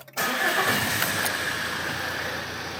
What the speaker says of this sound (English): Starting vehicle.